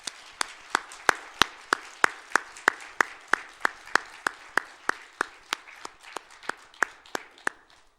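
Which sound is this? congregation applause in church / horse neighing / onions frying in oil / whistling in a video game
congregation applause in church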